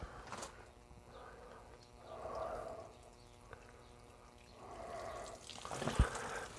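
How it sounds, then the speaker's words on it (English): Water poured over compost in a plant pot during gardening, heard as several soft splashy bursts of pouring, fairly faint and close, with brief pauses between pours and no talk. "And a bit more water onto there."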